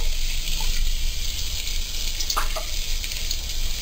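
Sliced onions sizzle steadily in three tablespoons of hot oil for a potato samosa filling, a continuous close crackle with a couple of light clinks of a utensil stirring near the middle.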